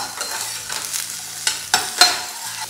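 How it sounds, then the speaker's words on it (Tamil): Sliced onion and capsicum stir-fry in oil over a high flame, with a loud sizzle broken by several sharp spatula scrapes and knocks against the pan. "இதை வந்து ஹை ஃப்ளேமில் ஒரு 30 செகண்ட்ஸ் மட்டும் குக் பண்ணிக்கோங்க."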